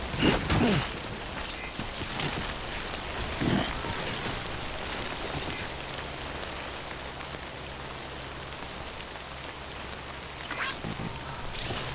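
Timefall rain in the video game Death Stranding patters steadily and softly, with a few louder gusts of hiss, a constant faint drizzle across the whole stretch.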